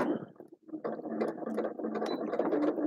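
A sewing machine runs steadily while stitching a seam, its rapid mechanical clatter continuing close and moderately loud after a brief pause near the start, with no talking.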